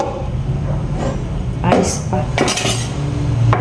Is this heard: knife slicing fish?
yes